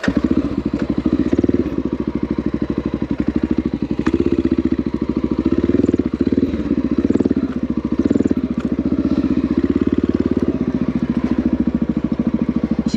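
A Honda XR650L dirt bike in a field chugs at low revs as the clutch is let out in short bursts with throttle, giving a steady pulsing thump of the single-cylinder engine with rhythmic surges and clattering under it, close and loud throughout.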